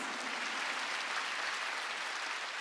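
A church congregation breaks into applause, a dense and steady wash of clapping that fills the room throughout at moderate volume, with no talking over it.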